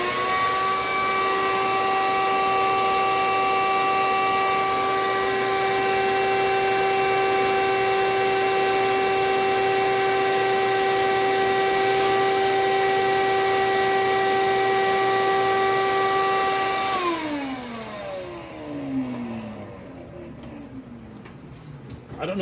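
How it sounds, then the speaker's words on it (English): A vacuum cleaner cleans loose static grass off a model scene, a loud steady motor whine that holds for about seventeen seconds, then winds down and fades as it switches off. "we're going to vacuum that one more time real quick"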